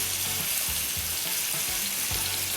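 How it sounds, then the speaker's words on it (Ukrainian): Pieces of pork sizzle in hot oil in a frying pan, a steady dense crackling hiss filling the whole stretch, close and even, with faint low clatters underneath. "Олія розігрілась, і ці шматки я відправляю на пательню як вони гарно шкварчать."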